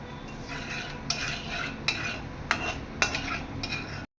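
Nigella seeds and vegetables stirred in hot oil in a pan for a home-style Bengali vegetable curry, a steady low sizzle broken by four sharp spoon scrapes and clinks against the metal, close and alone without talk.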